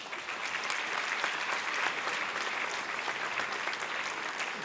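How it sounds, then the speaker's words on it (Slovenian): A concert audience gives steady applause in a hall, a full, continuous patter of many hands at moderate distance with no pauses. "Preden nadaljujemo, še en aplavz za vse veterinarje"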